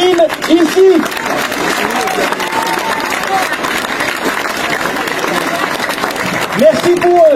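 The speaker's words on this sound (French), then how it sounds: "Je vous remercie de les applaudir tous" A crowd at an outdoor street demonstration in Paris claps and cheers in a rough, ongoing wash of applause, with a loud voice speaking over it at the start and again near the end.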